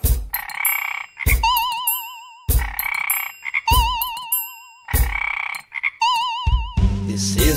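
A cartoon-style frog croaks in a children's magic wand song, repeating in regular bursts of warbling, springy croaks with short pauses between, loud and close, no talking.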